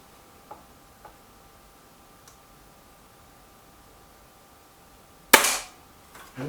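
A Stoeger XM1 Scout air rifle fires a pellet in one sharp, loud crack, with faint clicks of handling beforehand and a short rattle just after.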